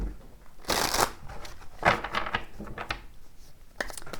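Quick riffling bursts of a card deck being shuffled up close, a few separate shuffles with short pauses between them.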